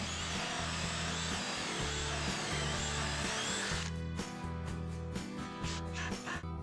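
A power drill bores into a thick wooden board for a homemade multi-storey birdhouse. The close, steady motor whine runs for about four seconds, then breaks into short bursts and clattering handling knocks.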